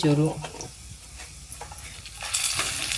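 Urad dal and chana dal with asafoetida roast in a pan, a steady sizzle with scraping stirs, close by, brightening toward the end, with a brief voice at the start.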